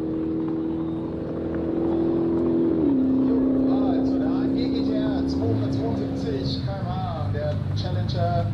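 A sports car engine revs and holds a steady, loud drone, then drops in pitch as it shifts and climbs again, with people talking over it toward the end.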